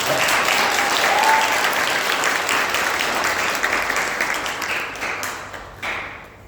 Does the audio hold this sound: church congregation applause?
yes